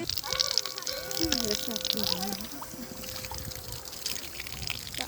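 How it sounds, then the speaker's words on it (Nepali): Water runs steadily from a tap or spout, a continuous splashing trickle, while children's voices chatter over it. "पानीको धारो छ"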